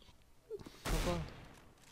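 A single muffled gunshot burst in a Counter-Strike-style shooter game, a short loud blast lasting about half a second amid quiet room tone.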